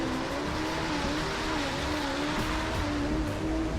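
A car drives hard and drifts through corners in Driveclub on Japanese tracks, its engine a loud sustained roar with wavering pitch that stays close and continuous, with no voices heard.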